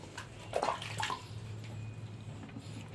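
Water splashes and pours while a louhan fish tank is rinsed, a few soft bursts of splashing over a steady low background hum, fairly faint.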